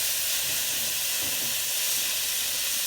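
Beef browns in a hot pan for a kibbeh in beet soup, giving a loud, dense, continuous hiss with soft low stirring thumps underneath and no pauses.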